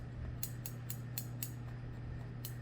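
Scissors snip through hair during a two-block haircut, giving about six crisp metallic cuts in an uneven rhythm, close and clear over a faint steady hum.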